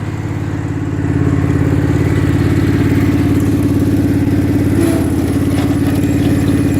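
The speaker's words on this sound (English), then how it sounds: "Alright, she's running." A Kohler Commander 22HP engine on a Craftsman riding mower runs steadily, a loud, close, even idle with a throbbing low rumble that rises slightly after the first second and holds constant.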